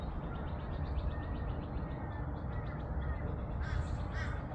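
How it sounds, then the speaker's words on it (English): Lorikeets calling in Sunnybank, a scatter of faint, distant screechy bird calls over a constant broadband background hiss, growing slightly more noticeable near the end. "You hear those lorikeets?"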